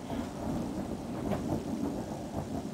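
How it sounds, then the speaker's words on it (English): Loud thunder from a storm rolls and rumbles steadily through the whole stretch, heavy and close, with rain noise mixed in and no voices. "Wow, that is a huge thunder."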